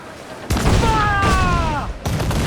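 A ship's cannon broadside in Assassin's Creed IV Black Flag booms loudly at close range as a single heavy blast that rumbles on, with shouted crew commands around it.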